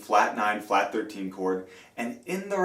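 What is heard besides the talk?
No distinct noise like a dog, phone or traffic.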